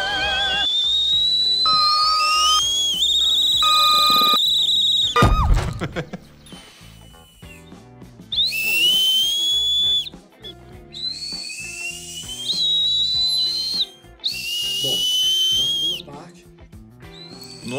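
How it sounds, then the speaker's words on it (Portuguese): A whistle blown with full breath as hard as possible, giving piercing shrill blasts broken by short gaps and sliding pitches, very loud and near. "Posiciona o apito na boca e agora aumenta a dinâmica o máximo que conseguir."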